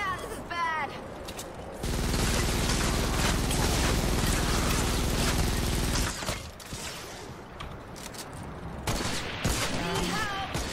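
A dense, loud burst of rapid gunfire in Fortnite roars for about four seconds, continuous and heavy, then drops off into scattered shots and clatter, with a voice speaking briefly before and after.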